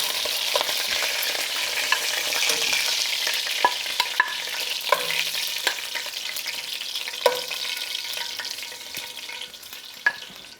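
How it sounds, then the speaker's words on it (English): Short ribs for birria searing in hot oil in a pan, a steady loud sizzle with frequent sharp pops and crackles spread across the whole stretch, close up and with no voices. "The oil is going to be popping."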